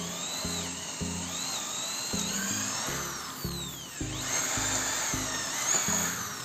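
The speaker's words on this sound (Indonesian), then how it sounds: "Sekarang kita akan langsung coba untuk melakukan pengeboran di kayu jati Belanda menggunakan mata bor" A DCA AJZ01-6A electric drill with a 6 mm chuck and a 7.5 mm bit bores into Dutch teak wood, its motor whining loudly and steadily up close while the bit grinds through the wood.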